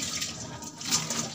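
Water from freshly boiled spaghetti pours out through a strainer in a kitchen, a short close splashing rush of liquid with no talk over it.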